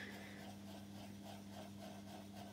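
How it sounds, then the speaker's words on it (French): An ink-loaded brush rubbed in small circular motions across a card stencil, a faint, continuous soft scrubbing with a gentle rhythmic pulse, close up and quiet. "on prend un peu d'encre avec la brosse et on va tout simplement venir en faisant des petits mouvements circulaires"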